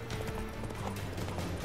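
A horse gallops in The Witcher 3 game, its hooves pounding in a fast, dense clip-clop rhythm over a brief moment of continuous movement.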